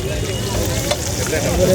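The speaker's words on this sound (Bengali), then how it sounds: "ক্যাঁকড়াটাকে ভাজা হচ্ছে একটু দেখিয়ে দিই ক্যাঁকড়া ভাজা" Crab frying at a street food stall in Puri, a steady oily sizzle with light stirring scrapes throughout, fairly close, with faint background voices.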